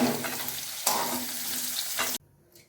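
Raw jackfruit pieces frying in hot oil give a steady, close hissing sizzle with a sharp scrape partway through, stopping abruptly near the end as the pan goes quiet.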